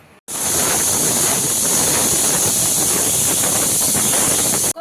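A pressure cooker holding mutton whistles out a loud, continuous jet of hissing steam that starts abruptly after a moment of quiet and holds steady until cut off.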